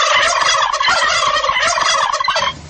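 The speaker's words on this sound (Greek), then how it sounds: "Διεκδίκησε τη γαλοπούλα σου, σαν να μην υπάρχει αύριο" A turkey gobbles in a radio advert, a loud, close, rapid warbling rattle that runs continuously before cutting off abruptly near the end, with no voices over it.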